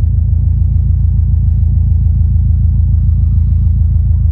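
A Subaru WRX STi engine gives a steady, loud low-pitched rumble with a pulsing throb, constant throughout and close by, no voices over it.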